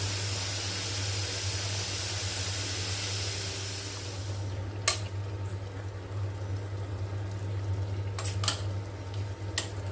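Steam hisses steadily from a pressure cooker of chicken gravy cooked without its weight, a constant rushing spray under a low hum, with a few sharp clicks and ticks toward the end.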